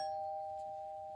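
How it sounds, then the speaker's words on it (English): A home doorbell chimes once in a sitcom scene, a clear sustained electronic tone that rings alone and fades gradually. "That was my doorbell."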